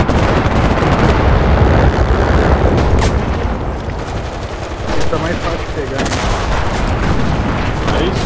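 Gunfire in the shooter game Enlisted, a loud, dense stretch of shots and blasts running through the whole clip with no pauses, while a player's voice talks over the top.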